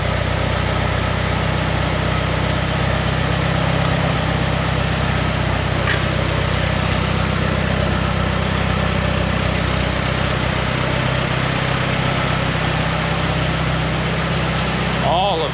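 A 1959 Allis Chalmers D17 tractor engine runs loud and steady close by with a low, continuous rumble, throttled up throughout.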